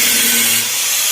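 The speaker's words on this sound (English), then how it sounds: "And a grinder noise in here." A grinder running in a workshop, giving a loud, harsh, broadband whirring hiss that stays steady and close for the whole moment, with no talking.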